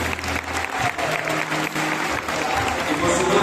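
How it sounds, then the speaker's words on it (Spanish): Audience applause for a teacher at a school recognition and eighth-grade graduation ceremony: steady, dense clapping from a crowd, fairly loud and continuous throughout, with faint voices mixed in. "Un aplauso para la profesora Jenny."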